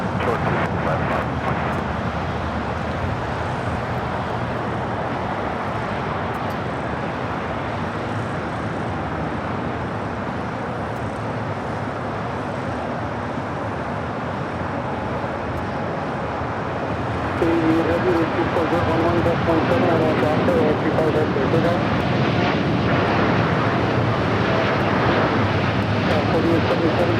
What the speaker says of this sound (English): This is Air Canada 788 taking off to Toronto on a 787-9 Dreamliner